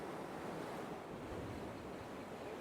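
Ocean swells surge against the rocks at a cold rocky fishing spot, making a continuous, loud broadband roar with wind buffeting the microphone and no speech.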